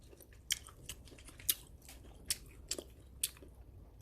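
Steamed perilla leaves, cooked with onion, chili pepper and mushrooms, are chewed close up, with soft wet bites and crunches repeating about every half second, quiet and without talk.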